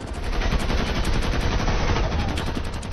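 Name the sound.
gunfire from mafia shooting in a film scene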